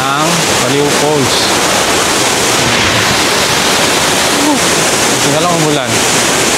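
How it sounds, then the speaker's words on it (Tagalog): Aliw Falls waterfall roars as a steady, loud broadband rush of falling water, with a voice heard briefly over the constant spray. "Ang Aliw Falls."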